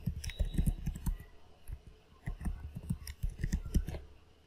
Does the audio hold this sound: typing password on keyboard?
yes